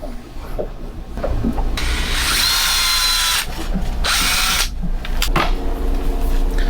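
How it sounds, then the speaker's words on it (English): A power drill whirs loudly up close, running in long steady bursts with brief changes in pitch as it bites into material; no voices. "This is just a drill."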